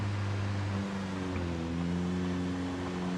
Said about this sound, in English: Car makes a little bit of noise.